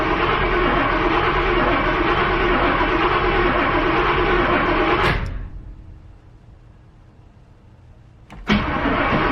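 A 1971 Cutlass engine cranking without starting after five years of sitting: a loud, steady churning whir for about five seconds that cuts off abruptly, quiet, then a short burst of cranking resumes.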